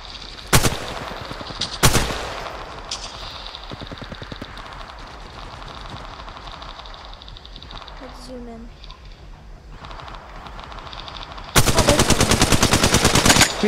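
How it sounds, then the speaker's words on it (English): Automatic gunfire in Apex Legends Mobile, with sharp bursts near the start and a long, loud sustained volley at the end, all over a continuous game ambience. "Somebody's firing. Not one of us."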